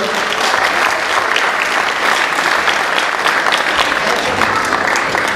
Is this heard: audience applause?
yes